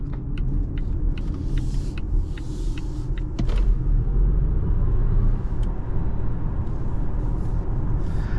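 Interior of a 2024 Volvo C40 Recharge Twin electric car accelerating hard on the road: a deep, steady low rumble of tyres and road noise, growing slightly fuller midway, with faint ticks and clicks inside the cabin.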